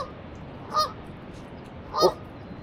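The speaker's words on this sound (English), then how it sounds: "What's the name of those birds? Geese?" Two separate goose honks by a river, each a short nasal call standing well clear of a steady outdoor background hiss, the first near the start and the second about a second later.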